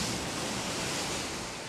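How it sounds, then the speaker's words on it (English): Ocean waves crash in a loud, steady wash of broadband surf noise with no break across the short stretch, the roar staying even throughout. "He panicked and fell backwards under the crashing waves."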